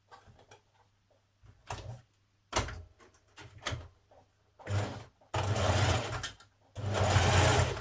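A sewing machine top stitches the frill seam of a Burda 6313 blouse, running in short stop-start bursts that build into longer steady whirring runs, close up with no talk.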